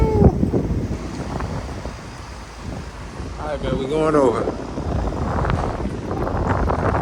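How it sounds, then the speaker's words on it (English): Gusty wind roars and buffets the microphone outdoors, a steady rushing noise while someone talks over it. "It's windy out here, y'all."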